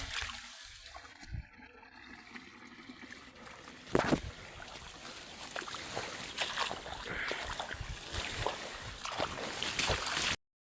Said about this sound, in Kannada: ಇಲ್ಲಿಯೇ ನೀರು ಬರಲ್ ತೊಗೊಂಡ್ರಿ